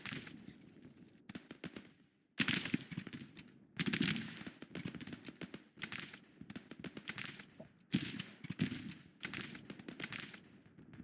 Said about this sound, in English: our batteries are still firing